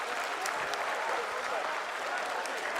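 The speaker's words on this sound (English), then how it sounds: "people are applauding" An audience watching the Chandrayaan-3 lunar lander's soft landing applauds continuously. The dense, even clapping fills the whole moment without a break.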